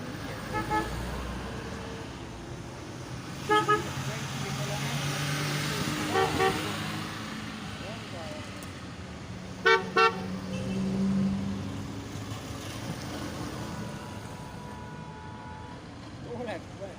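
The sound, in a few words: vehicle horns honking at a vintage vehicle parade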